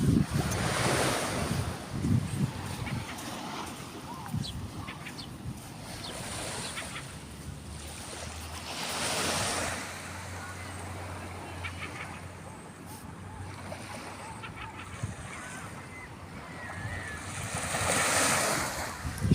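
Sea waves break on the sand at Stonehaven beach, swelling and receding in loud surges while wind buffets the microphone, with a faint bird call now and then.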